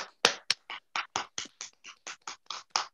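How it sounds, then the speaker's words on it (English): An audience clapping hands in a salute during a presentation, a series of about a dozen distinct, evenly spaced claps, close and crisp, with no talking. "clap our hands for them to say, we salute you"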